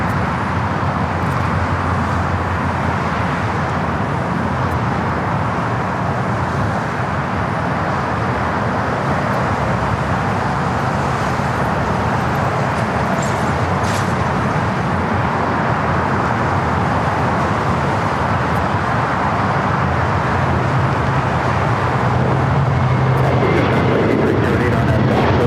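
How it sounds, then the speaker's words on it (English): A JetBlue jet rolls down runway 25 Right at LAX for takeoff, bound for JFK, its steady broadband engine roar heard at a distance and holding at an even, continuous loudness, with a faint voice or traffic murmur underneath. "Next takeoff, already rolling down to 25 right."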